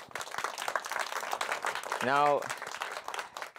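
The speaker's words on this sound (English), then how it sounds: "you're all clapping" A studio audience claps and applauds steadily throughout, the dense patter of many hands continuing while someone speaks briefly over it.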